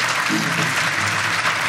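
An audience applauding the Tuna de Derecho, a student minstrel group from Universidad Complutense de Madrid, with steady, dense clapping from many hands throughout and a faint voice underneath.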